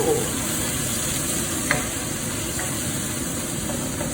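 Hot curry paste fries with chicken in a pan for laksa, a loud, even hiss of sizzling oil that holds steady throughout, with one faint clink partway through.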